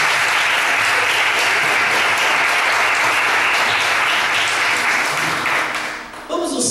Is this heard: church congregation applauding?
yes